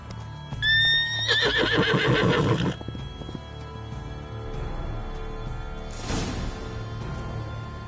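Roach the horse in The Witcher 3 gives a loud, close, shrill whinny lasting about two seconds, then quieter rustling and a brief burst of noise as ambient sound continues.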